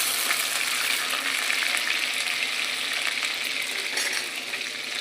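Garlic and chillies frying in oil in a wok, a loud, dense, unbroken sizzle with faint crackles throughout, no voices.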